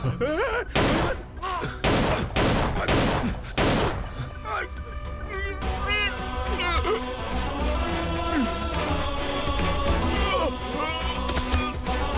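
A rapid burst of loud gunshots rings out in the opening seconds of a police shootout scene in a Hindi-dubbed movie, then gives way to a dense, tense dramatic music bed.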